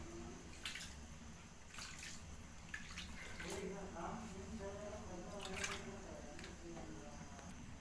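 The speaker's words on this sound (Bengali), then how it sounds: "পানি দেবো।" Water poured into a pan of egg and potato curry gives a soft, continuous splashing and trickling that stays faint and even throughout.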